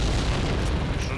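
In Call of Duty, a deep, rumbling grenade blast fills the short moment. It lands close and heavy, and a voice speaks faintly under it.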